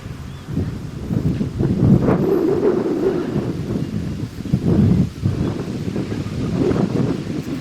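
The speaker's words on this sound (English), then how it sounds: "As the wind starts to pick up and the breeze gets a little heavier here at Maddie's Park" Wind gusting across an outdoor baseball park during a youth league final, a steady loud rumbling buffet on the microphone that swells and eases over several seconds.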